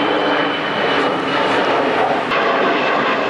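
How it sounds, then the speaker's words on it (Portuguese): Jet airplane flying low overhead near Guarulhos airport in São Paulo at sunset, a loud steady broadband engine roar filling the whole clip without speech. "Tem um avião passando."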